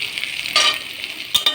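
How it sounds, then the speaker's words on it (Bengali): Potato and bitter gourd pieces fry and sizzle in a pan, with a steady bright hiss, a louder burst as they are stirred, and a couple of short scraping knocks near the end. The sound is close, with no speech. "আর একটু হালকা ভেজে নিয়ে একটু কাঁঠালের আঁটি দিয়ে দেবো"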